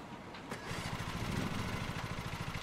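A mower engine starting in the Lawn Mowing Simulator game: a brief cranking click, then the motor catches and settles into a steady, close, pulsing mid-pitched idle.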